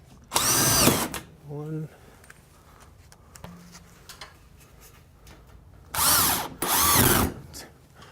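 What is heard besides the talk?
power drill driving drywall screws into ceiling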